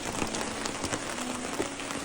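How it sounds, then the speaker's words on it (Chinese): Heavy rain falls outdoors at a fishing campsite, a steady close hiss of drops pattering on surfaces with no voices. "这个大雨啊是一直没有停过。"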